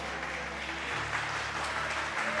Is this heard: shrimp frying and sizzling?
no